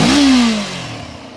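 A Honda CB500X motorcycle with its stock exhaust fires up loudly close by, the engine blipping briefly and then dropping back to a lower, steady idle.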